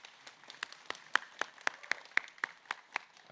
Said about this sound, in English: please, the biggest round of applause for the award winner